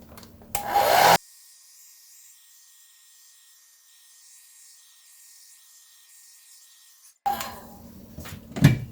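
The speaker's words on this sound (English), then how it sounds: "I'm going to get my blow dryer and I'm going to give it a whirl" A hair dryer gusts loudly for a moment, drops to a faint, steady hum on its low setting for several seconds, then roars up again near the end.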